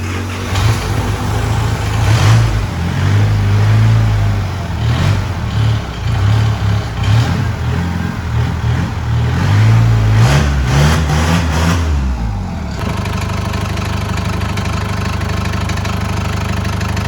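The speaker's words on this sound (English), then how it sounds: "this is Isuzu D-Max with 3 turbos" An Isuzu D-Max pickup fitted with three turbos, two smaller ones feeding a larger one, idles loudly and close with a rough, pulsing rumble and some uneven revving, then settles into a smoother, quieter idle near the end.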